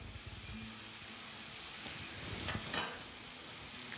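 Food sizzles gently in margarine in a pot on a stovetop, a soft continuous frying hiss with occasional light stirring scrapes and a brief clink, heard fairly quietly.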